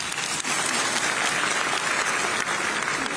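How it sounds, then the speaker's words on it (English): A crowd gives a dense, steady round of applause at a national student technology competition, continuous clapping with no voices over it. "a round of applause for Dabokpa Technical Institute, Northern Region"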